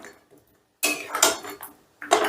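Yogurt being mixed into chicken in a pan, with a spoon scraping and clinking against the metal in short close bursts after a quiet start, no voices.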